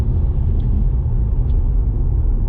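A car rolling downhill in an automatic on a driving test route, the driver easing off the gas: steady low road rumble and engine hum from inside the cabin, with no voices.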